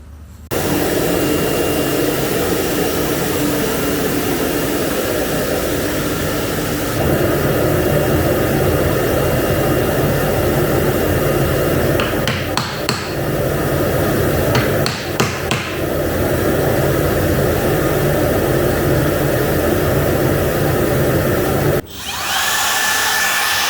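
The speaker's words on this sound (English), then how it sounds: "I'll take it over to the router table, and I will trim all those tabs off" A router table trims the tabs off wooden campervan bed parts, heard as a loud, sustained motor whine with a shift in tone partway through and a few sharp bursts as the cutter bites, then stopping abruptly near the end.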